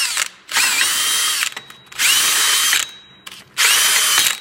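A power tool scours rust off a disc brake hub surface in three loud, close bursts of steady high whirring, with short quiet gaps between them.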